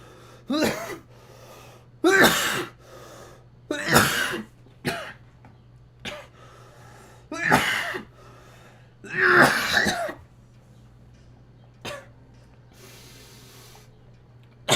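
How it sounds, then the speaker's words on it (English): Harsh, raspy coughing in repeated bursts, several heavy fits spaced a few seconds apart, close to the microphone with quiet gaps and a low hum between. "I always try not to cough, but it's hard."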